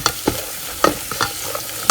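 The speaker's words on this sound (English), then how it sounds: "When the coconut oil is hot, put in the minced garlic and cook it till golden brown." Minced garlic frying in hot coconut oil in a pot, with a steady close sizzle broken by several sharp scraping stirs of a utensil across the pan.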